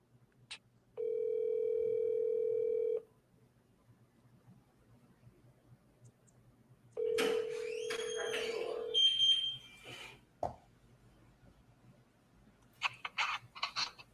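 An outgoing phone call rings with two long, steady electronic ring tones separated by silence, followed by a click and brief voices.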